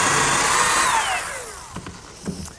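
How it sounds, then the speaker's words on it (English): A power drill with a 3/8 inch bit boring a hole in wood for a picnic table bolt: a loud, whirring motor that falls in pitch as it slows, then a few light knocks and clatters. "Now I'll drill a hole with a 3/8 inch bit for the unthreaded portion of the bolt."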